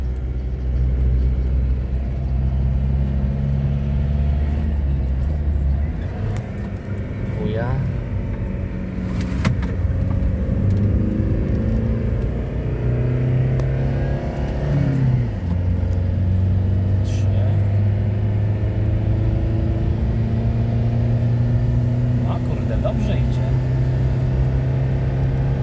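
A 2.2 DTI diesel engine in an Opel Frontera B pulls steadily while driving along a winding route, with a continuous low rumble and shifting engine tones as it changes speed, and a voice is heard over it.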